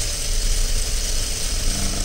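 A sewing machine stitches a blouse, giving a steady, continuous mechanical whir and rattle that runs unbroken from start to finish, with no voices.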